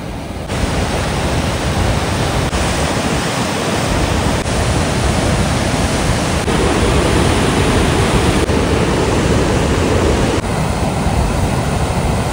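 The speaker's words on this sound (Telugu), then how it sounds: "సో ఈ వాటర్ ఫాల్ నేను అనుకున్న దానికన్నా 10 times బాగుంది" A waterfall about 200 feet from a parking lot in the Maryland or DC area roars steadily and loudly up close, a dense continuous rush of water with no pauses and no voices.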